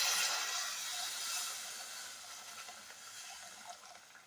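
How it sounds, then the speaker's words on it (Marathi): Hot water poured into fried masala for a paneer curry, a steady close hiss and splash with bubbling sizzle that stays even for several seconds and eases slightly toward the end, with no talking. "आता यात टाकूया गरम पाणी"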